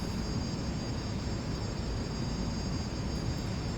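Eurofighter Typhoon jet on landing approach in Microsoft Flight Simulator, a loud, steady engine roar with broadband rushing noise and faint high tonal whine, continuous and unchanging with no talk.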